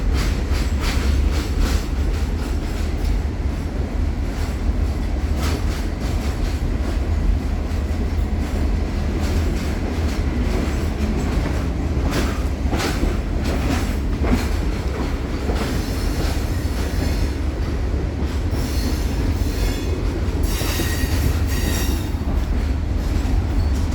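Steady, loud rumble of the Adirondack Railroad train riding from Old Forge to Big Moose, with continuous rail clatter and wheel noise filling the whole stretch, with no talking.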